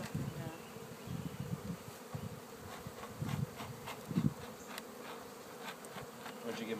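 Dense swarm of honeybees buzzing steadily around beehive boxes in a Medfield, Massachusetts apiary, the drone continuous and close with louder surges, no talk.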